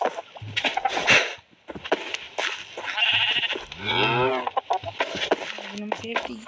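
Clucking chickens from the Minecraft video game come in short bursts between lively talk, the animal calls mixed in with the speech.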